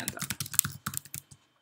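Quick bursts of typing on a computer keyboard, close and fairly quiet, about a dozen irregular key clicks that stop after just over a second.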